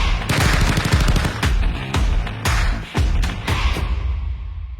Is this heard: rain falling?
no